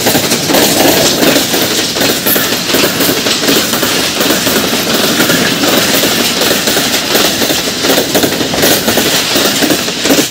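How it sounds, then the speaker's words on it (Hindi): A train rolls past a village, loud and close, with a dense, continuous rumble and rhythmic clatter of wheels over track joints that holds steady throughout. "तो ये देखा जी ट्रेन जा रही है।"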